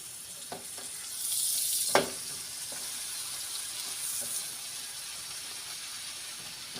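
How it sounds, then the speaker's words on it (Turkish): Bread fries in butter in a gözleme pan, giving a steady, quiet, close sizzle. Part way through comes a brief louder hiss with a light clatter, then the even frying continues with no talk. "Bunları da tereyağında kızartalım."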